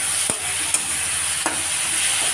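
Tomato dropped into a hot spiced pan for stir-frying with peas: a steady, close sizzle with a few brief spatula clicks and taps over it.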